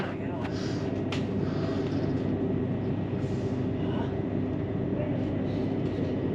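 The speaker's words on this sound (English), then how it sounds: "this is the LNER 1303 train to Leeds, sir" An LNER train bound for Leeds rumbles steadily, a continuous low rail roar with faint clicks and squeaks heard from on board, slowly leaving King's Cross.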